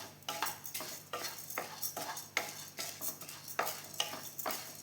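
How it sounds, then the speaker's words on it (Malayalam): A spoon stirs and scrapes dry-roasting rice in a pan, the grains rasping and rattling in a steady rhythm of strokes close by, with a faint sizzle underneath and no talk. "അപ്പൊ ഞാനിത് വറുക്കട്ടെ"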